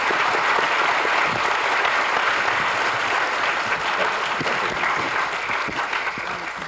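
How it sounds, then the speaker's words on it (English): An audience applauds the panelists at a discussion on Germany ten years after reunification: dense, sustained clapping from many hands fills the whole stretch, easing off slightly near the end. "you have already given a good round of applause to the distinguished panelists"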